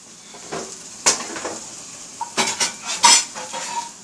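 A metal spoon scrapes and knocks against a hot pan, working loose pork chop drippings, with several sharp clinks and scrapes over a faint sizzle, close up and without talk.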